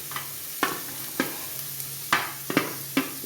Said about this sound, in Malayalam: ഇനി നമുക്ക് സബോള പൊടിയായിട്ട് അരിഞ്ഞത് ഇട്ട് കൊടുക്കാം.